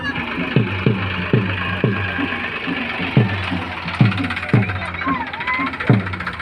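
A tractor engine idles and chugs nearby with a low, regular thumping beat, its rhythmic knocks running steadily beneath people talking outdoors.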